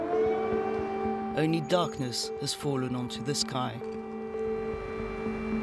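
Air raid sirens sound over a Ukrainian city at night during the war, a steady, sustained droning tone that runs through the whole stretch beneath a voice speaking in the foreground.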